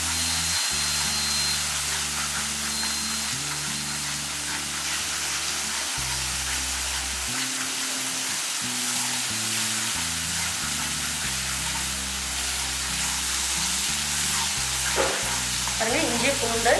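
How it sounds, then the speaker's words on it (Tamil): Ginger garlic paste fries in a pan with a loud, steady sizzle while it is stirred, with scraping and spoon sounds throughout and no talking. "இஞ்சி பூண்டு எல்லாமே நல்லா வதக்கிட்டுருக்கோம்."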